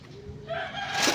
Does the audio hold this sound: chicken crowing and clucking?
yes